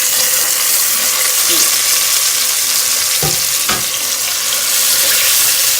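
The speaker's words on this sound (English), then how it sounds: "So I'm going to fry them first." Marinated oxtails frying in oil in a pan, a loud, continuous close sizzle with a few brief knocks and scrapes partway through.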